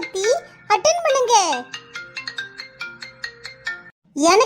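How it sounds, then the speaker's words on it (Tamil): A cartoon phone ringtone plays a bright, stepping melodic tune for several seconds, with a child-like voice chattering over the start and again at the end after a brief pause. "ஃபோன் அடிக்குது சக்தி, எடுத்து பேசுங்க"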